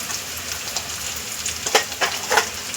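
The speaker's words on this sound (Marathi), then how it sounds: "हे सगळे आता आपल्याला 1 मिनिटभर व्यवस्थित फक्त तेलामध्ये परतून" Carrots, green peas, tomato and coriander hiss and sizzle in hot oil on a tawa for street-style pulao, with a steady frying crackle and a few louder stirring scrapes near the end.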